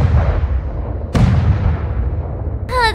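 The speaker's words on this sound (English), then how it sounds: "The Sky Splitter's gun salute is really loud." Sky Splitter cannon firing a gun salute in Honkai Star Rail: two loud, booming blasts about a second apart, each rumbling away slowly, followed by a brief higher sweeping tone at the end.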